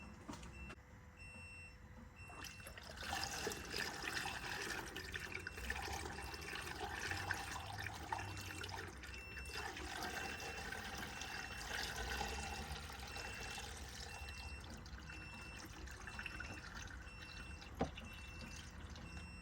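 Coolant poured back into the reservoir of a Ford Ranger 3.2 engine, a continuous close trickling and gurgling of liquid with faint background rumble, steady and alone for about twenty seconds.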